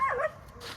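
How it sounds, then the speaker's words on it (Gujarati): A single short dog bark close by at the very start, followed by quieter background noise. "ડોગી"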